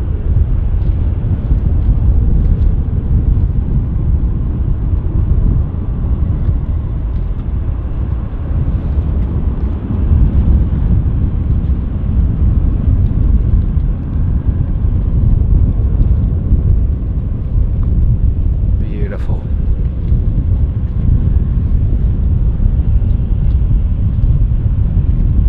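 Embraer jet aircraft at London City Airport, a steady low rumble of engine noise holding evenly throughout at moderate distance, with a brief higher whine rising near the end.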